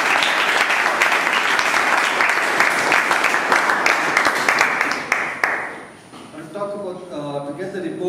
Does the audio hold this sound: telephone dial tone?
no